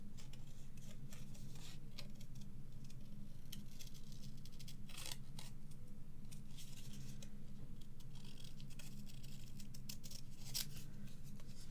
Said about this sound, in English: going to cut this little lady out now.